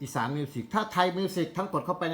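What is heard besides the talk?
No everyday noise stands out behind the speech.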